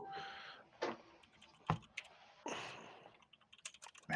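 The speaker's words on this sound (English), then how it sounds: "If you hear me furiously typing" Quiet, irregular keyboard clicks and taps, with a few sharper keystrokes and short pauses, close and soft with no talking.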